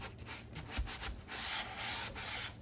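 A quartz composite sink scrubbed with sideways strokes, giving soft, repeated rubbing swishes in an uneven rhythm, fairly faint and close, with no talk.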